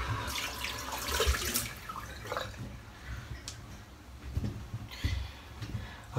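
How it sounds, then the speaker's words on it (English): Running tap water splashing and gurgling into a sink as a shaving brush is rinsed, steady close-up flow with irregular splashes and drips, no talking. "I shall rinse out the brush"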